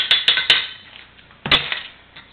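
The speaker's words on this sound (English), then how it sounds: "And again, stir it up." Spoon clinking against a mug while milk is stirred into a cobbler dough mixture for a microwave blackberry cobbler, a few sharp close taps in quick succession, then one more after a pause, no talk.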